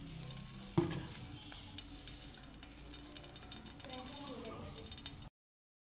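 Paneer paturi frying in hot mustard oil, a faint steady sizzle after a sharp clatter as the pieces go into the pan, with quiet kitchen ticks and background voices.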